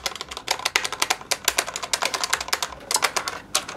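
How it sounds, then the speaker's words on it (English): Typing on a Corsair K60 RGB Pro mechanical keyboard: a quick, steady run of crisp key clicks, close up and fairly quiet, with short pauses between bursts and no voices. "for mechanical keyboard, I don't know how I'm feeling right now. The sound is a little underwhelming in my opinion"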